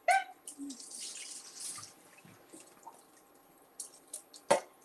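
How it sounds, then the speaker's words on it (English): Water in a kitchen sink while food is rinsed for Ghanaian light soup: intermittent splashes, drips and faucet trickles in irregular bursts, fairly close and quiet, with no talk. "I'm gonna keep rinsing it until it's clear"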